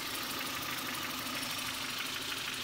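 A 1995 Toyota Tercel with a worn transmission mount idles with a low, rumbly engine sound, faint and steady, heard close with no voices.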